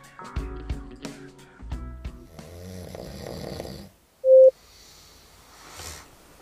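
A man snores loudly and close by in a few deep, rattling breaths, then a single sharp electronic beep sounds from an anti-snoring earplug gadget.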